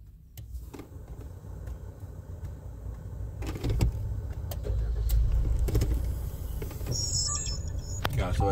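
A Maruti Jimny engine cranks and catches, settling into a low steady rumble, with a short electric whir and faint clicks around it.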